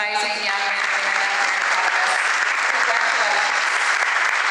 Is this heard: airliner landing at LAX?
no